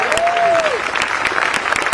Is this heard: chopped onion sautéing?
no